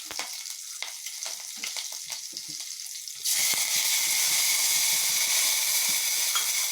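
Green chillies and curry leaves hit hot oil, giving a soft crackle that jumps into a loud, steady sizzle partway through and holds to the end, with faint clinks of stirring.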